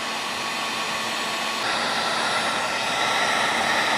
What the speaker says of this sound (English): it's going to need a lot of heat gunning